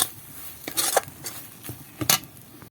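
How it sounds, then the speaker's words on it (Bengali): A spatula scraping and stirring Bengali string-bean paste as it dries in a pan, with a few sharp metallic scrapes and clinks over a soft sizzle, close and unaccompanied by talk. "এইভাবে অনবরত এটাকে নেড়ে নেড়ে শুকিয়ে নেবো"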